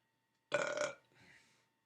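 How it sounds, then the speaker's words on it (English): A loud, rasping beer burp erupts close to the microphone, followed by a quieter, drawn-out second burp that fades away. "beer burps"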